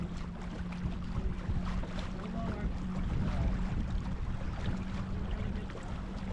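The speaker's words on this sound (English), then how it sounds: "You can hear our speed building here." A J105 sailboat racing off Annapolis, Maryland, with a continuous rushing wash of water along the hull and wind buffeting the microphone, steady and full throughout.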